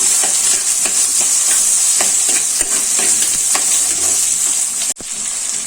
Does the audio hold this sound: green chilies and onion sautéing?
yes